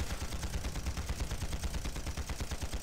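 Rapid cannon fire in the Panzar video game at the Sandstorm Temple, a dense run of sharp repeated shots in quick succession, fairly faint and with no voices.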